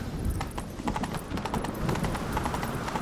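Rapid clip-clop of horse hooves galloping steadily in the video game The Witcher 3: Wild Hunt, close and continuous, with a brief whinny mixed into the rhythm.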